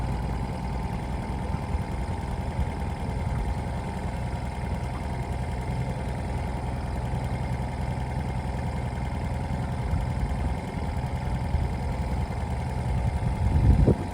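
Outboard motor on a Newport Seascape 9-foot dinghy running steadily on the water, a constant low engine hum and rumble with a slight swell near the end, no talking.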